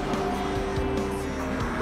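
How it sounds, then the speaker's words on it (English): Race cars roar through a tunnel in a video game, a brief, loud engine drone with overlapping revving tones and quick pitch sweeps of cars passing close. "Look at the sound of these cars coming through the tunnel."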